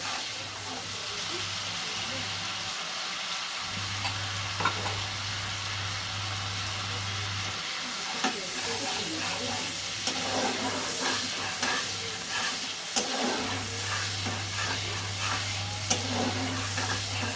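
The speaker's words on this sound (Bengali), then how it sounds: "এটাকে ভালো করে কষে নিতে হবে।" A Bengali egg dish with coriander, garlic and green chilli paste being sautéed and stirred in a pan, a continuous low sizzle and hiss with intermittent utensil scrapes and clinks, heard close with a steady hum underneath.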